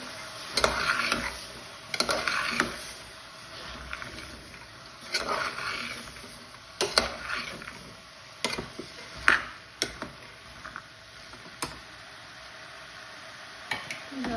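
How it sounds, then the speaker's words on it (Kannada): A spoon scrapes and clacks unevenly around a pan of avarekalu bean sambar, a soft sizzle running underneath the sharp stirring knocks. "ಇದು ಅಷ್ಟೇ ನೀಟಾಗಿ ಮಿಕ್ಸ್ ಮಾಡ್ಕೊಳ್ಳಿ"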